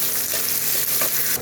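Chopped onions frying in a pan for a fish-head muri ghonto, giving a steady close sizzle with faint stirring scrapes, no voices.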